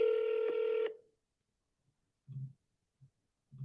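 Telephone dialing, a loud single touch-tone note holding for almost a second before stopping, then silence broken by a few faint low clicks or thumps.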